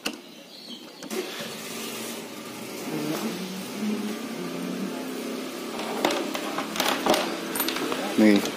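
A Yamaha NMAX scooter engine revs up and down at moderate distance under a steady background hum, with clicks and clatter from bodywork being fitted and people talking nearby.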